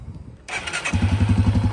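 A Yamaha TW200 motorcycle engine with a Nibbi carburetor starts up and settles into a steady, loud, thumping single-cylinder idle close by, with no talking.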